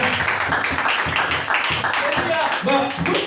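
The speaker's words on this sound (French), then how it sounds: "Acclamons très fort." A French-speaking church congregation claps loudly and steadily during a sermon, a dense wash of many hands continuing throughout, mixed with a voice.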